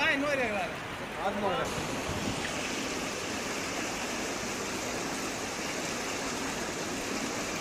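A river in flood after heavy monsoon rain in Saurashtra, Gujarat, roars as a steady broadband rush of water that stays loud and constant throughout, with no voices.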